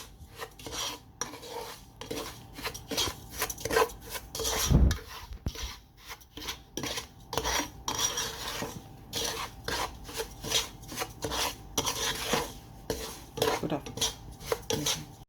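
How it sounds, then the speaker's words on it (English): Semolina roasting in a pan over a low flame as Goan neureos sweets are prepared, producing a steady rasping, scraping rhythm of a utensil stirring the dry grains against the metal, close and continuous with no speech. "Now fry it on low flame."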